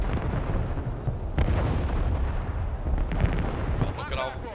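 Booming artillery and missile fire in the war game Broken Arrow, a dense continuous barrage of rumbling blasts with sharper reports, loud and sustained, with faint talk mixed in.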